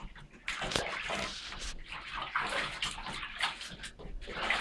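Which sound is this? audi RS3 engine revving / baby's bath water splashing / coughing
baby's bath water splashing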